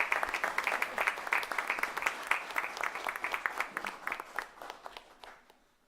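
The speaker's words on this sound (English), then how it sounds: "So can we give them a round of applause?" Fairly faint applause at a school board meeting for a fifth grade chamber orchestra from Wading River School: a room of separate, distinct claps that keeps steady for several seconds, then tapers off and dies away at the end.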